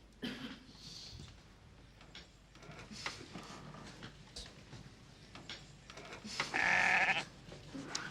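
Sheep bleating, a few wavering calls rising out of a quiet background, with one louder, clearer bleat near the end.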